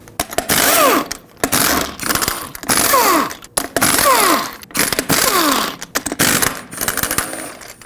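Impact wrench spinning off the six 22mm lug nuts on a rear wheel of a 2015-2020 GMC Yukon, loud close whirring bursts repeated several times with short pauses between.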